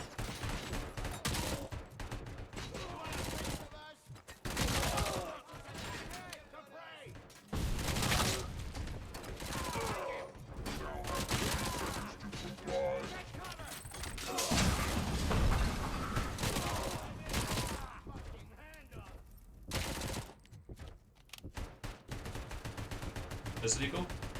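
Gunfire and mechanical weapon sounds in the video game Robocop: Rogue City, rapid bursts and clanking dense throughout, with speech mixed in over the action.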